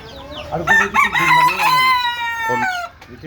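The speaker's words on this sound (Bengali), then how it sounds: "এই দেখেন দুনো কোটা মুরগি ঝগড়া করতেছে" Loud, close squawking and agitated clucking from two native Bangladeshi chickens fighting, a harsh drawn-out cry rising and falling over a few seconds.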